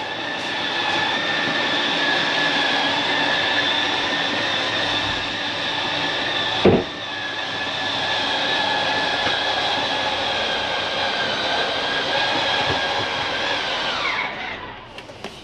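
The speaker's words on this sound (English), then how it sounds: "That's just the slide mechanism telling itself not to go in any further." A steady mechanical whine and hum of a Mesa Ridge 275RLS travel trailer's motorized slide-out retracting, with a sharp clunk partway through as it stops itself, then winding down near the end.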